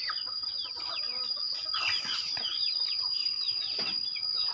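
Chickens cluck in a small backyard coop in a rural village, with scattered calls and chirps over a constant high-pitched whine.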